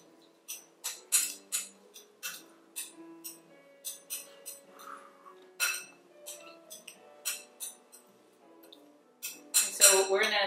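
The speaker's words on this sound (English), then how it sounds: "And then we're just going to mix it up a little bit" Salt being mixed into a trout marinade in a bowl gives a run of light, close clinks and scrapes of a utensil against the bowl, repeating in short irregular strokes, with brief speech nearby.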